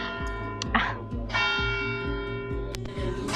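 Church bells ringing in a steady repeating pattern with sustained overtones, fairly distant, while a voice speaks briefly over them.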